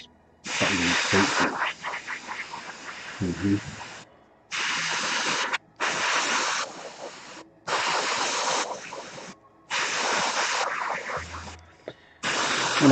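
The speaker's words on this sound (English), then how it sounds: "I don't know why I'm spraying these fucking feet" Close hissing bursts from an airbrush spraying primer onto Space Wolf miniatures come in about six separate pulses of a second or two each, with brief quiet gaps and faint handling noise between them.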